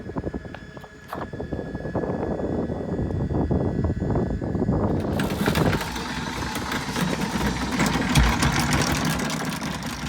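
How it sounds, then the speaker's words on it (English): Outboard boat engines run loudly nearby with a steady mechanical drone while being tilted up and down by remote control, the tone shifting abruptly midway as the motor sound changes. "Here we see the engines being tilted up and down by pressing the assigned buttons."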